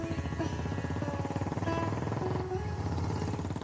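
A vintage Royal Enfield motorcycle engine thumps on a road in Rajasthan, India, a close, steady, throbbing pulse that is loud and continuous for the whole stretch.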